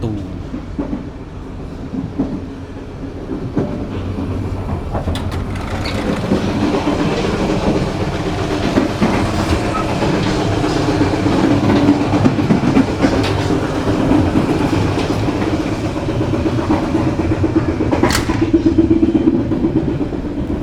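Inside an executive carriage of the KA 186 Joglo passenger train in Indonesia, a loud steady rumble of wheels on rails carries on with rhythmic clattering and occasional sharp clicks.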